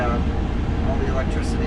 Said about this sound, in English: you can hear the fans burning off all